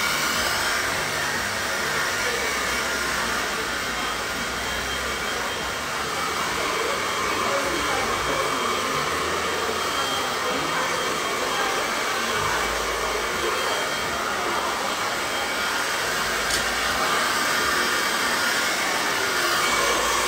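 A hair dryer blow-drying hair during a short bob haircut, a loud continuous close whoosh that runs unbroken throughout with only slight shifts as it moves.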